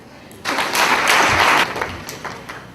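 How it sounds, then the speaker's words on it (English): An audience claps after a poem reading: a short burst of applause swells quickly, holds for about a second, then tapers off into scattered claps. "Let's give him a clap."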